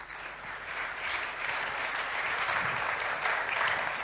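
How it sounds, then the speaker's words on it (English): An audience welcoming a panel onto the stage at a cyber-resilience conference with steady, sustained applause that stays moderately loud and even for the whole stretch, with no voices above it. "Let's give them a round of applause."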